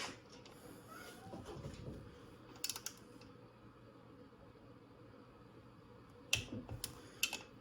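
Torque wrench clicks sharply as 6mm bolts on an XT500 motorcycle kick starter are tightened, a few short separated clicks with quiet gaps between them.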